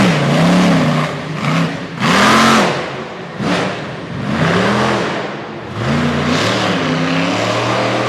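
A 1996 monster truck engine revs loudly in repeated surges at a monster truck event in Brookville, Pennsylvania, roaring up and falling back several times, with crowd or arena noise underneath.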